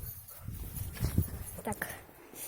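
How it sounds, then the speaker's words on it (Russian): Dog moving close by indoors, with soft paw scuffles, a short whimpery vocal and light thumps, uneven and near, with faint background noise. "вот это вот псина"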